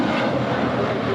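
A Boeing 777-300ER airliner, Singapore Airlines flight from Tokyo Narita, on a two-mile final approach into LAX, produces a loud, steady, broadband jet roar that stays constant and close throughout.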